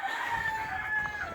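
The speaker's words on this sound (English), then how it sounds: "That's him crowing" A Silkie rooster crows in a garden, one sustained, fairly loud call with a clear tonal pitch held across the clip, with no one talking.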